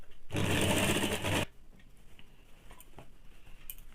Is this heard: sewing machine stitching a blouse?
yes